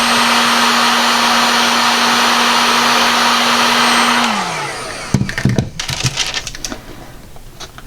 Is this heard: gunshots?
no